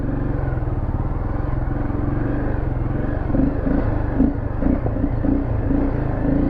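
Motorcycle with sprockets geared lower than stock, its engine running steadily up close with a deep throbbing rumble and a few light revs near the end; one brief spoken word at the start.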